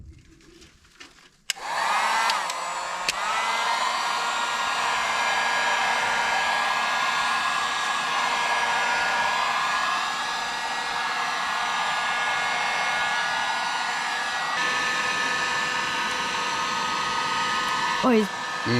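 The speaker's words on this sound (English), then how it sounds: "really what I want to do now is heat this piece of pipe, and then we're going to bend it" A heat gun warming a PVC conduit pipe so it can be bent, giving a loud steady blowing whine that starts after a click and runs almost without a break to the end.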